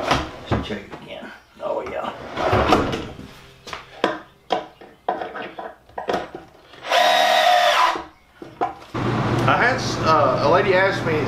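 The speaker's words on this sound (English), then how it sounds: "We'll go ahead and put these screws here." A power drill drives screws while fitting out a homemade RV built from a 1977 Peterbilt 359 toterhome, with one steady whirring burst midway and another near the end, between stretches of someone talking close by.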